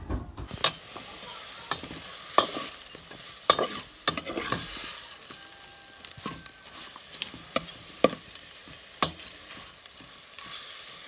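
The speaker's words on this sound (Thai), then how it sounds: "เฮาสิคั่วเลยคั่วให้มันสุก" Food stir-fried in a pan, with crisp, irregular clacks of a utensil striking the pan over a soft, continuous sizzle, the scrapes and taps close and uneven across the whole stretch.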